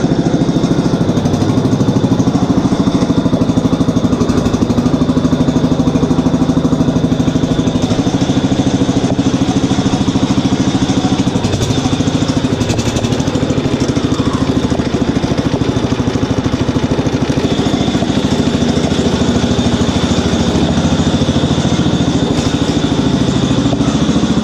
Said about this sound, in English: there's a gigantic tractor up in the cornfield.